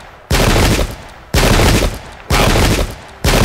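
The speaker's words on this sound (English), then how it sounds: "Wow, it's a lot of shots already getting fired off by the enemy" Enemy musket volleys in the Pike and Shot video game, four loud rolling bursts of massed gunfire, each lasting about a second with brief gaps between, crackling and booming close by.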